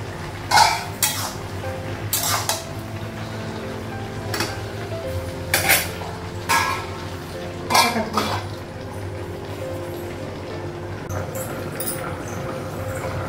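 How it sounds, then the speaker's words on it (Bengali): A metal pot lid clanks and a spoon scrapes through curry in a pan, giving a handful of sharp, irregular clinks and knocks spaced over a low kitchen background. "ঢাকা দিল, পরে নাড়া যাচ্ছে। ঢাকনাটা উঠানো"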